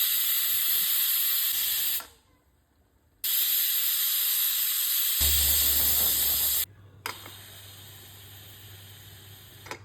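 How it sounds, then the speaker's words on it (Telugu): A pressure cooker cooking tomato dal vents steam in loud, sustained hissing blasts. A long blast cuts off, a second follows, then a lower, rougher hiss continues alongside a steady low hum. "కుక్కర్ విజిల్ అంతా పోయిన తర్వాతే మనం మూతను తీసుకుందాం."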